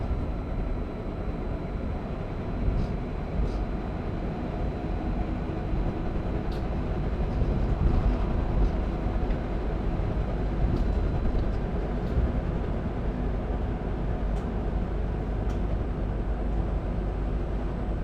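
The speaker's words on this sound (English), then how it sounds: "this train is of the type Stadler Flirt" A steady, broadband rumble of a passing Stadler Flirt electric train, continuous and fairly loud throughout with a low roar and faint high clicks.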